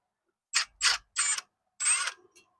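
Four short mechanical clicks and ratcheting bursts from a T30 Torx rotor screw being loosened on the front brake of a 2017 Chevrolet Silverado, close and fairly quiet, with brief pauses between pulls.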